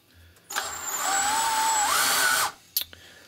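A cordless screw gun motor drives an IH milling head, whirring steadily for about two seconds with a rising pitch shift partway through, then stopping, followed by a couple of light clicks.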